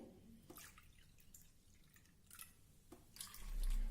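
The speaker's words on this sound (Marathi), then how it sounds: "त्या एक वाटी डाळीसाठी आपण दोन वाट्या पाणी घालणार आहोत" Water is poured onto measured lentils in a kitchen: faint, intermittent trickling and dripping splashes come in a few short bursts, quiet and close.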